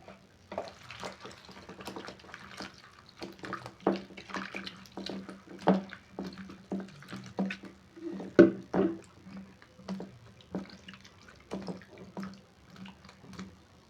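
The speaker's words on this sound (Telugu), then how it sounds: "కడిగాను నేను, మొత్తం క్లీన్ అయింది" Mushrooms are washed by hand under water: faint, close splashing and dripping with irregular small sloshes, quiet and without voices.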